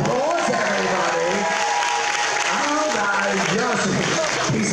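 An audience on the Carnival Liberty cruise ship during a sea day claps and cheers in a loud, continuous wash, while someone talks over it.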